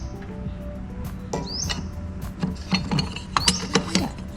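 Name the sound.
loosening nut and fitting guide on Makita electric planer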